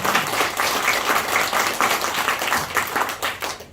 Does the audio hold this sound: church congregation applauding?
yes